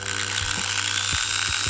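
Old Hitachi drill boring out rivets on a Porsche 914, a steady motor whine with several short grinding bursts as the bit bites into the metal, close and moderately loud.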